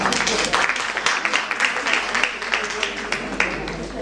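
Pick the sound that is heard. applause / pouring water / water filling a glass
applause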